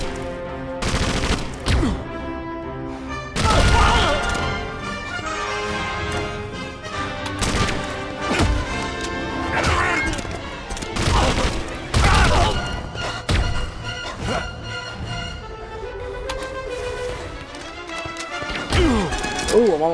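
Bursts of gunfire and crashing impacts in an Indiana Jones video game, loud and dense with repeated volleys and sharp hits, mixed with game music and brief shouted voices.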